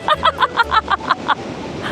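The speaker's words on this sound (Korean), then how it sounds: "아니 오빠만 가면 왜 파도가 그렇게 쳐?" Ocean surf rushes steadily at Hajodae on the Korean coast, a broad wash of breaking waves beneath a burst of close, rhythmic laughter.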